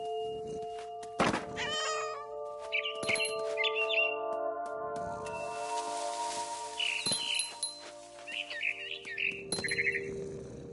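A cat in What Remains of Edith Finch lets out several short meows amid a sustained musical tone, with thumps and a few bird chirps, scattered across a quiet game scene.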